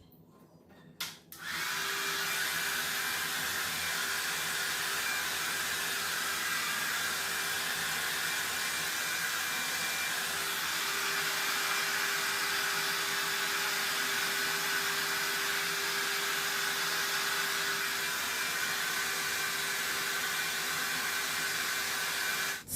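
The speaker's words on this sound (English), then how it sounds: "My hair is a bit wet. Let me blow dry it." A hair dryer blows steadily on wet hair, a loud continuous airy roar with a faint motor whine that starts abruptly and runs unbroken to the end, with no talking.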